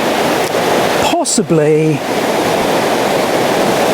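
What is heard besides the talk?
river water flowing near the Pontcysyllte Aqueduct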